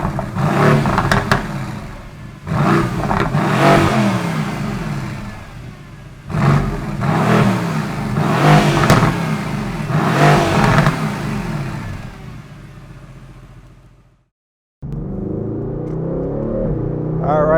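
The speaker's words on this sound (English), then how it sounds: "have a listen to this performance exhaust system" A Mercedes-AMG GT Roadster's performance exhaust revs hard several times in loud bursts, crackling and roaring up close, then drops off before a lower idle resumes.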